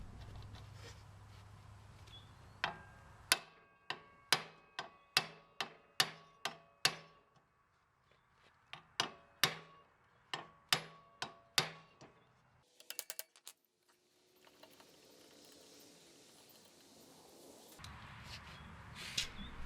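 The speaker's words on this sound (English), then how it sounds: "I always use an impact driver for these." An impact driver removes screws from a John Deere 110 lawn mower, rattling out two runs of rapid, evenly spaced sharp clacks separated by a pause, followed by quieter handling noise and a faint whir.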